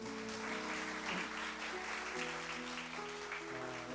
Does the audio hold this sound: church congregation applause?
yes